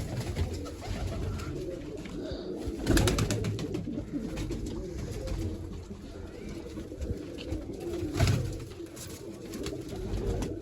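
Pigeons coo in low, repeated throaty calls close by, several birds overlapping continuously, with occasional wing flaps and knocks.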